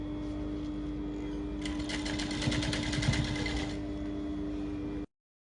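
Close by, a sewing machine whirs through a half-inch seam on a baby girl's ruffled dress, a steady mechanical hum that rises into a brisk rattling burst of stitching before cutting off abruptly.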